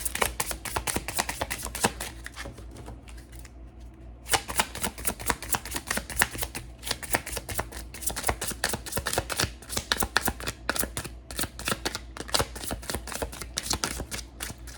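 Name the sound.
tarot cards being shuffled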